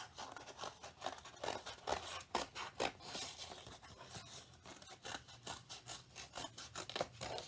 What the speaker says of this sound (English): I'm going to use some scissors and cut those papers along my pencil lines